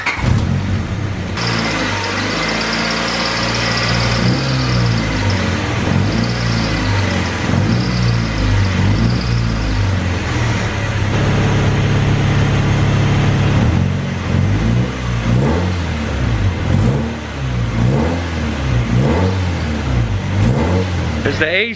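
An LS-swapped Chevrolet S10 engine runs steadily with a noisy AC clutch, a loud continuous mechanical drone with rhythmic pulsing, while people talk over it.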